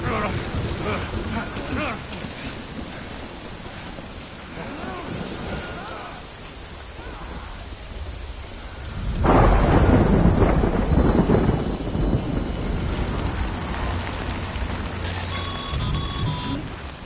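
Rain and thunder in the video game Death Stranding: steady hissing downpour with a heavy rumbling thunder roll building midway, and voices talking over it.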